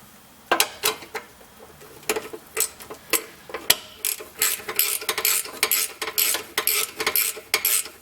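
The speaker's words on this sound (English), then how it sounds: "So we're going to be tightening this up with 9/16." A ratchet with a 9/16 socket tightens a shock absorber bolt on a 1992 Toyota pickup, giving bursts of quick, close clicking strokes with short pauses between them.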